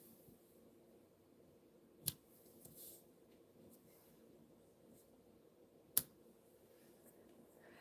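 Scissors trimming a craft bow: two sharp, isolated snips several seconds apart in a quiet room, with faint rustling between them.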